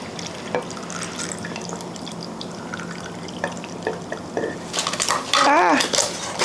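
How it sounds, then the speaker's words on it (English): Fermenting brine is poured over beets in a jar, a soft liquid trickle under quiet kitchen noise, ending in a louder flurry of glass and utensil clinks. "to pour it over the beets."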